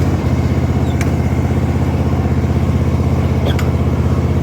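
An Ariens riding lawn mower, its deck raised, drives away with a loud, steady, close engine drone and a fast even pulsing throb, a couple of faint clicks over it.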